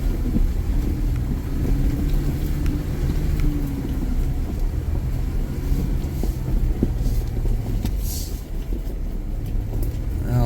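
A 4x4 crawls downhill off-road in first gear low range, its low engine drone steady and continuous with wind buffeting the microphone throughout and no voices.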